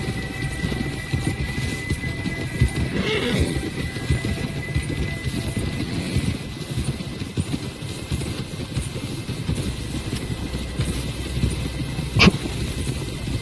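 Horse riding in the video game Red Dead Redemption 2, a dense continuous patter of hooves at a gallop, loud and close, with wind and background rumble throughout and a brief sharp sound near the end.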